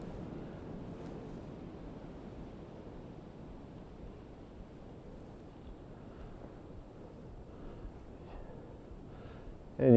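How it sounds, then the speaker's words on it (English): Steady outdoor wind rushes and buffets the microphone in thick woods for the full stretch, a low continuous roar with no talking, and a sharp burst at the very end. "Pretty windy here, so it'd be hard to hear anything."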